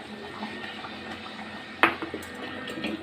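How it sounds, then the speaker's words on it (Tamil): Ground sesame and roasted gram paste is poured into a pan of oil brinjal curry: a soft, wet pour with one sharp clink of a utensil on the pan, set against a steady background hiss. "அந்த எள்ளு, பொட்டுக்கடலை எல்லாம் நம்ம அரைச்சி வச்சுருக்குறோம், அதை ஊற்றிக்கலாம்"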